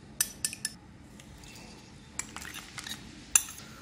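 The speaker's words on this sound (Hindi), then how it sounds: "200 ग्राम मैंने दही लिया है, इसको मैं फेंट के डालूंगी।" Yogurt is whisked in a bowl with a utensil, giving a few sharp clinks against the rim separated by quieter stirring, close and faint in a kitchen.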